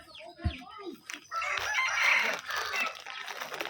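Rooster crowing and hens clucking in a rural village at evening, a long loud crow rising after a few nearby clucks, with a brief voice at the start and steady outdoor ambience.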